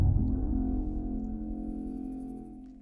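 Two layered impact hits combined with a bassy one-shot from a music production intro, a deep booming strike that swells at once and decays slowly over about three seconds, heard alone without talk.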